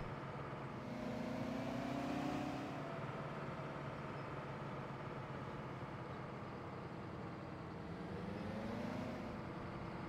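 Tractor engine from Farming Simulator 17 drones steadily while driving, a continuous low hum with slight pitch shifts, loud and alone with no talk.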